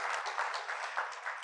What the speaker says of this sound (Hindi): जोरदार तालियां बजाई इनको